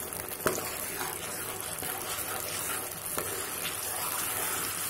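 Half a cup of oil in a kadhai gives off a faint, steady sizzle and crackle, with a single small clatter early on.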